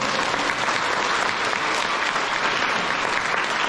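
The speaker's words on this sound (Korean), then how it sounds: "박수 한 번만 주십시오." Steady, dense applause from a crowd at an art exhibition opening at the Jeonnam Provincial Museum of Art, loud and continuous throughout with no voices rising above it.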